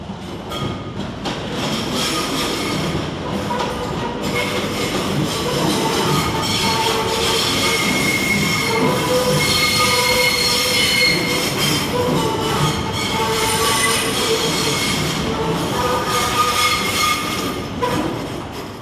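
A train pulls into London Liverpool Street station with loud, sustained metallic wheel squeals over rumbling rail noise and clatter, close and continuous for nearly twenty seconds.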